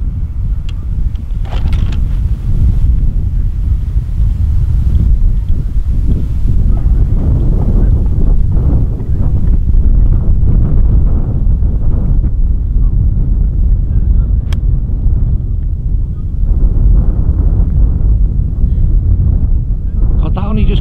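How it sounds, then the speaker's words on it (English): Strong wind buffets the microphone on Heswall Golf Club's course, a loud, continuous rumbling roar with gusting swells that lasts throughout, with muffled voices partly under it. "that wind is strong, isn't it?"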